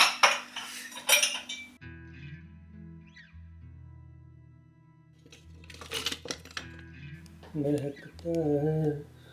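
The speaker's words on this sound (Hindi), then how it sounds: "फटाफट बर्तन कर लेता हूँ" Dishes and cutlery being washed in a home kitchen clatter and clink in short bursts, with quiet gaps between and someone talking over parts of it near the end.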